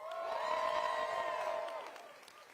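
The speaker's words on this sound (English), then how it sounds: "let's give a cheer for IATSE Local 1 members who are working this event" A large crowd at a union labor rally cheering and whooping in one sustained swell that peaks early, then fades over about two seconds.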